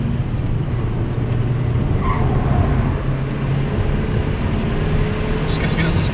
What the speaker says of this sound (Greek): Ακούγεται και ο κινητήρας.